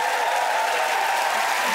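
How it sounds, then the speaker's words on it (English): A studio audience claps steadily and densely throughout this short stretch of applause on a comedy panel show, with no break in the clapping. "They applauded"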